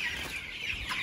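Chickens in a netted, drafty barn pen give a continuous close chorus of soft clucks and chatter, with a higher squawk near the end.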